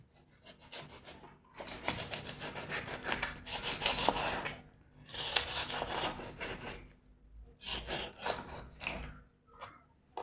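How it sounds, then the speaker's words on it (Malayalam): Knife cutting through a tuna fish to remove the head, giving close rasping, sawing strokes in uneven bursts with short pauses between. "നമുക്കിൻ്റെ തലയും കട്ട് ചെയ്ത് മാറ്റാം."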